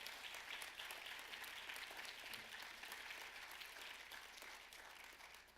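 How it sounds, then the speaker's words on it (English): An audience at a BEYA evening event applauds for HBCUs, heard as a dense, even wash of clapping that is quite faint and distant, slowly tapering toward the end. "let's give all of our HBCUs a round of applause"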